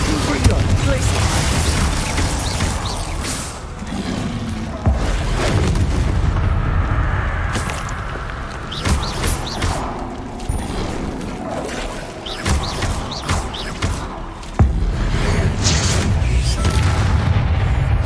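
Confringo explosive spell blasts in a video game, a run of loud booms and bursts over a rumbling, busy background, with sharp hits recurring across the stretch and a voice speaking at times.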